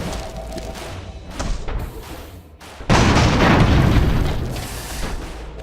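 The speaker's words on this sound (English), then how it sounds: "That was an explosion." A heavy explosion in an airship battle game erupts with a sudden deep boom, followed by a sustained loud rumbling roar after softer thuds earlier.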